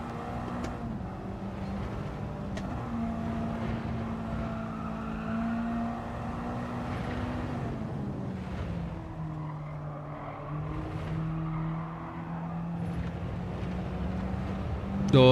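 A race car engine in a racing video game time trial, holding a steady droning tone that shifts pitch as the throttle is worked against the brakes, fairly quiet and continuous throughout.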